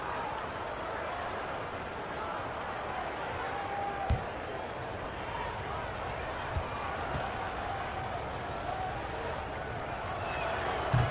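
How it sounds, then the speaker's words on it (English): Steady, loud roar of a Utah basketball arena crowd in the NBA 2K23 video game, during a recreation of Jordan's Flu Game, sustained throughout with a few sharp thumps mixed in. "How about this Utah crowd? They get extremely loud."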